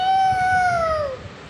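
A person imitates a cat's meow with one sustained, clear, tonal mew that slowly falls in pitch and fades at the end. It is loud and close, against a quiet background.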